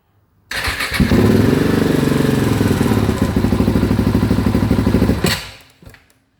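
A rally-prepared KTM 690 motorcycle engine cranks and catches, then runs loud and close with an uneven, rough idle for about five seconds before cutting off abruptly, followed by a brief clatter.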